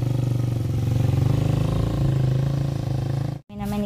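A motorcycle ridden along a road, its engine droning with a steady pulsing throb close to the microphone, briefly cut near the end before resuming.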